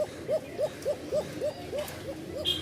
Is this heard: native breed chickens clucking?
no